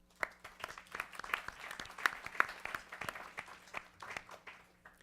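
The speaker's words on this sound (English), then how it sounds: "please give them all another round of applause" Sparse applause from a small conference audience thanking the sponsors and hosts at an academic opening session, with scattered distinct claps at moderate distance and no talk over it.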